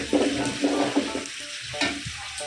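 Onions frying in mustard oil in a pan, a crackling sizzle broken by bursts of stirring and scraping, close and fairly loud with no voices.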